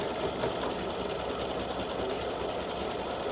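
An embroidery machine stitches a pair of triangle clover earrings, a steady, fast, even whirring and clatter that runs unbroken and fairly close, with no talking over it.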